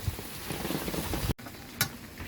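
Steady outdoor rain patters on surfaces in Jamaica while food is cooked in the open, a dense, even hiss broken by a brief cut and a sharp splash or clatter near the end.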